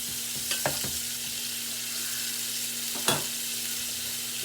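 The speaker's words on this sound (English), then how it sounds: "all these veggies are being browned up as well" Chicken and vegetables browning in a pan for a cheddar and broccoli bake, a soft steady sizzle broken by a few scraping stirs and one louder clack near the end, with a low hum underneath.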